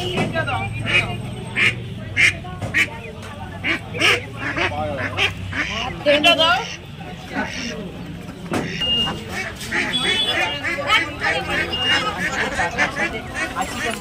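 Ducks quacking amid a busy Nepalgunj poultry market selling ducks and chickens, repeated sharp calls over a crowded hubbub of voices and market noise.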